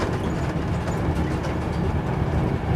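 A Virgin passenger train runs on the rails between Rugby and Watford Junction, heard from inside the carriage as a loud, steady low rumble with continuous running noise and no voices.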